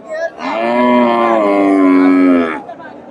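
A two-toothed crossbred dairy cow moos once at a busy cattle market, a single long, loud, close call with strong harmonics that holds for about two seconds before fading.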